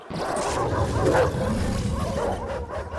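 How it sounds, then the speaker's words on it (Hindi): Dogs bark and yip, with some whimpering, in an elimination race scene of hungry dog contestants on roller blades. Several dogs sound at once, close and loud, with overlapping voices in the mix. "200 भूखे कुत्ते कंटेस्टेंट्स रोलर ब्लेड्स पर सवार."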